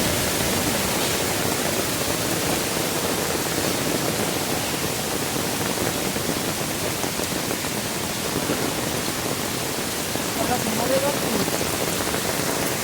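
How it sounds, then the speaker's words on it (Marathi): Heavy rain pours steadily throughout, a dense continuous hiss of drops with no letup and no voices. "अचानक पाऊस एवढा आलाय"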